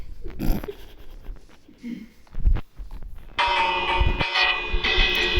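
Bell ringing in a Minecraft knockoff video game, a bright sustained tone that starts about midway and keeps sounding, after scattered game noises and brief talk.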